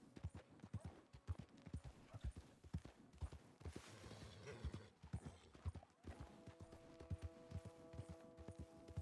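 Rapid hoof clip-clops of a horse trotting in Red Dead Redemption 2, with a whinny in the middle, against soft game ambience and a faint tonal hum near the end.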